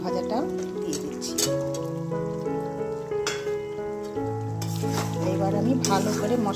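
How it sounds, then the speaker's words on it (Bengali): Fried potatoes are stirred into sizzling masala with chicken in a pan, giving a soft frying hiss and scraping stir sounds under steady background music. "দেখো আলু ভাজাটাও দিয়ে দিচ্ছি।"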